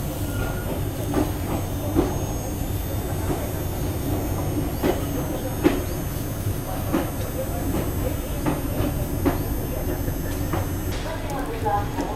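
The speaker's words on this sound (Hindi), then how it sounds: "अपनी ट्रेन जो है जैसलमेर रेलवे स्टेशन में भी एंटर कर रही है" A train entering Jaisalmer railway station rumbles steadily with rhythmic clacking wheels and occasional metallic clanks and squeaks as it rolls along, continuous and fairly close.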